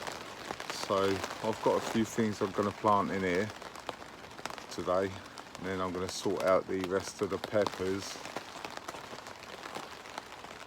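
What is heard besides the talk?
heavy rain pouring outside a polytunnel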